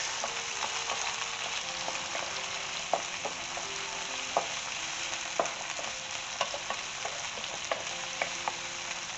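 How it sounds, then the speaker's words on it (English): Peppers frying in a pan with tomatoes for lamb ribs, giving a dense, constant loud sizzle with frequent light clicks and scrapes of stirring throughout. "And I'm gonna throw these pepper. Give it a good mix."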